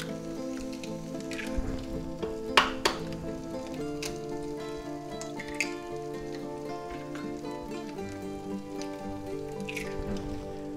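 Eggs frying in a pan beside garlic spaghetti and sausage, a steady soft sizzle and crackle with occasional sharper pops, close by, under a faint tonal background hum and no speech.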